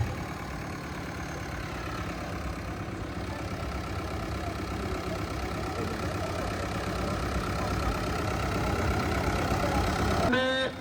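A tractor engine idles and runs steadily at a trolley-pulling competition, a continuous mid-low rumble that swells slightly toward the end before a brief sharp rattle; no talk is heard.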